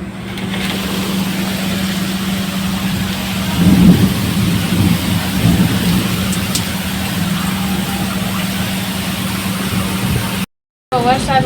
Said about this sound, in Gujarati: અહીંયા તો જો બહુ જ વાવાઝોડું વરસાદ ને કરા ફટકાય ને